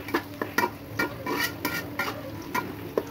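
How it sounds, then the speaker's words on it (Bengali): Quarter of a kilo of onion sizzling and frying in hot oil for a broiler chicken bhuna, with repeated stirring scrapes and clinks of a utensil against the pan over a steady crackle. "তেলের ভিতরে পেঁয়াজটা ছেড়ে দিলাম।"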